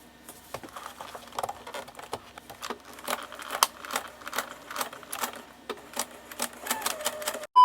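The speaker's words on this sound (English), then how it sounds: "I'm just going to sew a line down the elastic band so you can't see it" A sewing machine stitches a line down an elastic band on tapestry pants, rapid mechanical clattering in bursts that start and pause, close and moderately loud, with no talking.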